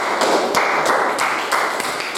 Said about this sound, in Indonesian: kita beri tepuk tangan untuk Mila